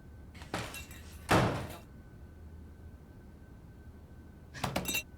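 A door banging shut twice in a tense indoor scene, with a sharp loud thump near the start, a second bigger slam, then a fainter rattle of impacts at the end, with no talking.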